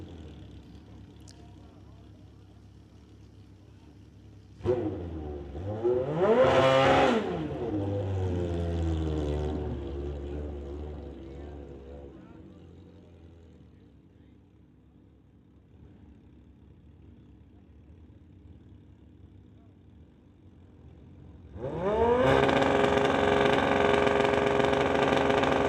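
A drag racing motorcycle called the Kraken fires up and revs hard at a drag strip, a loud rising roar that fades to a low idle, then blasts again into a sustained, close, powerful howl.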